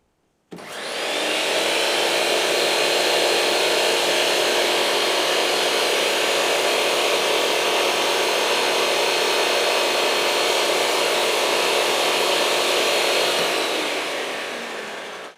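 A SawStop table saw running in bypass mode, a loud, steady broadband whine that starts abruptly, holds constant for about fourteen seconds, then begins to wind down.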